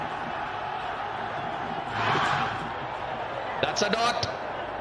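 A cricket stadium crowd roars steadily through an Afghanistan versus Sri Lanka one-day international, swelling briefly in a loud cheer, while a commentator speaks over the noise.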